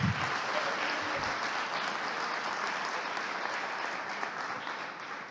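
A church congregation applauds during an evening service, sustained dense clapping from many hands that is loudest at the start and slowly thins toward the end.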